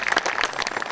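Applause from an audience at a May 18 memorial ceremony, a short steady patter of clapping that fills the whole second with no voice over it.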